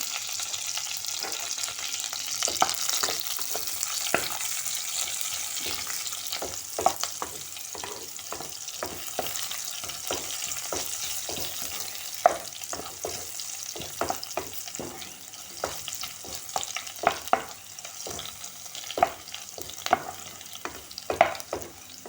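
Garlic and curry leaves fry in hot oil as a tempering for mango raita, giving a steady close sizzle broken by frequent sharp stirring scrapes and clinks, with no talking.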